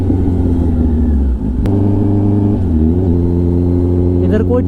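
A Kawasaki ZX-10R motorcycle fitted with an SC-Project titanium exhaust rumbles loudly and steadily on an evening ride through the hills of Uttarakhand, its engine note shifting and rising as it accelerates through gears.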